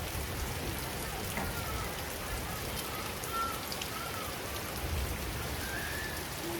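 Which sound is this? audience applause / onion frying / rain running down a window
rain running down a window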